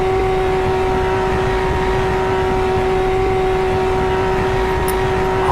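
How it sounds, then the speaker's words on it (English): A car engine idles steadily nearby, a constant low hum with a strong sustained tone running unchanged and fairly loud throughout, with no talking. "I hear the engine on my left ear"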